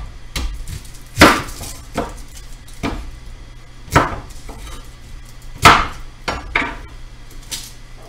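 Knife dicing celery on a cutting board, a series of sharp, irregular chopping thuds at close range, with no talking.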